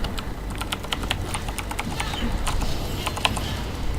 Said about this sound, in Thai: ขออภัยนะ ถ้าเสียงคีย์บอร์ดดังไป